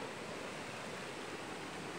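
River water at Bakas River in Norzagaray, Bulacan, a steady broadband rush of flowing water that stays constant and fairly loud the whole time, with no voices.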